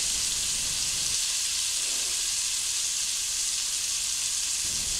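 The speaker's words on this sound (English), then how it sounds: "When you sear the roast, it gives it a nice flavor, locks in the juices" A beef roast sears in a hot pan with a loud, continuous hiss and sizzle, close and steady throughout, with no voices.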